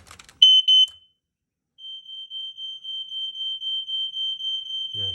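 A radio-linked smoke alarm under test in a house gives two shrill electronic chirps, falls silent briefly, then sounds a steady string of rapid piercing pulses, clear and moderately near.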